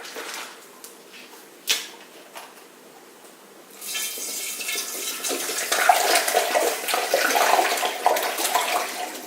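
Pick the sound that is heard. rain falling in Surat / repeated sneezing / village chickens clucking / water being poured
water being poured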